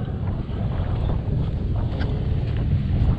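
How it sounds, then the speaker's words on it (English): Strong wind buffets the microphone outdoors in Azusa Canyon, a loud, steady low rumble with gusty roughness filling the whole stretch, no voices heard. "Not sure if you guys can hear me, but it's pretty windy"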